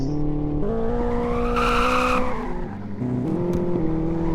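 A car in a Roblox game revs and skids, engine tone rising and falling with a loud tire squeal building in the middle, sustained and close with no speech.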